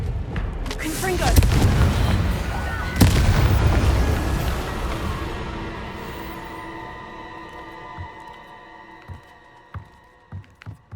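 Confringo fire spells from Hogwarts Legacy burst in loud, deep booming blasts, two heavy hits early on and then a long rumbling decay, with sharper smaller impacts popping near the end.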